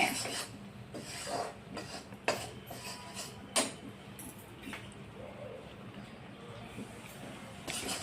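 A spoon or spatula scrapes and rasps steadily against a pan while peanuts are stirred and roasted for peanut jaggery chikki, close and quiet, with occasional louder knocks against the metal.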